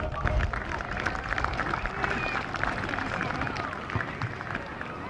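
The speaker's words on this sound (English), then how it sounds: "Let's give yourselves a nice round of applause." A crowd applauds at an outdoor S.B.L. opening day ceremony in Somerset: dense, steady clapping and cheering hold at an even level for the whole stretch, with a busy mix of hands and voices.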